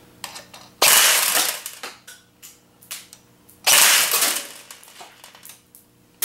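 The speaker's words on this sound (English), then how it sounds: "See some burst fire here. Maybe we can get some rate of fire with burst fire, I'm guessing. So this is just 3-round burst." An Ares G36C airsoft rifle fires two loud, sharp bursts a few seconds apart, each a close mechanical crack followed by lighter clicks and rattles of the gun's mechanism, with no voices.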